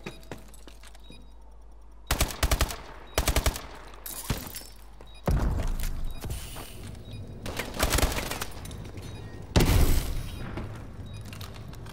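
Gunfire from Call of Duty: Advanced Warfare in a search-and-destroy private match: sharp bursts of automatic fire and single shots crack out in clusters, some close and loud, separated by brief quieter gaps with faint mechanical clicks.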